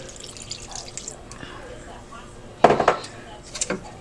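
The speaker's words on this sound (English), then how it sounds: "So we're going to add another cup of broth" Broth is poured from a cup into a pot of thick lentil soup, a short wet splashing burst with a few clinks of the pot, preceded by quiet kitchen background and a voice.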